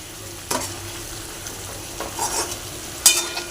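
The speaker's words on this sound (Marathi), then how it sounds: "खूप छान असा आपला मसाला भाजलेला आहे। बाजूनी तेलही छान असं सुटलेलं आहे।" Masala roasting in oil crackles softly in a pan, and a few distinct scraping stirs cut through the low, steady sizzle. Nearby and fairly quiet, no voices.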